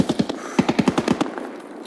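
Automatic gunfire in Escape from Tarkov during a fight with rogues, two quick bursts of sharp rapid shots, the second longer and trailing off, fairly distant with no talk over it.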